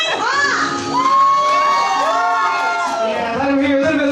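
An audience at a mermaid aquarium burlesque show in a bar screams, whoops and cheers loudly and continuously, with high children's shrieks rising and falling over the dense crowd roar.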